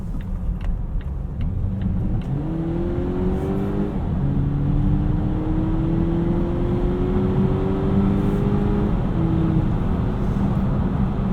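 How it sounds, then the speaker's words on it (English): A 2018 Volvo XC60 T6 AWD R-Design pulls away steadily on a highway. Its engine note climbs smoothly through several quick automatic gear shifts, heard from inside the cabin under continuous road and wind roar with no talking. "Nice quick shifts from the transmission."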